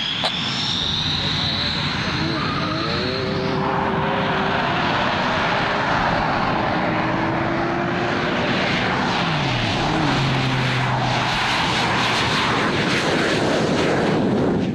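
A jet fighter and a Porsche GT3 race side by side, giving a loud, continuous roar of jet and engine noise with rising and falling engine tones, and people talking underneath.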